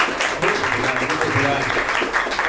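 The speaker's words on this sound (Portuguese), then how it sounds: "Uma salva de palmas por uma resposta dessa!" Audience applause breaks out at a Loja Monstra event with a comics author: lively, uneven clapping at close range, with voices talking and cheering over it.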